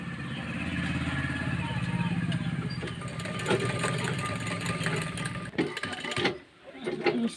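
A sewing machine runs steadily, stitching lace onto a suit, with a continuous fast mechanical whir and rattle that stops near the end and gives way to a few handling clunks.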